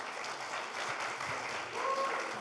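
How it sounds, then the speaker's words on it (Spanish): A church congregation gives a guest a warm round of applause, a steady, moderately distant wash of clapping that swells slightly near the end, with a faint tone sounding briefly over it. "quisiera pedirle a Isaac un fuerte aplauso para Isaac"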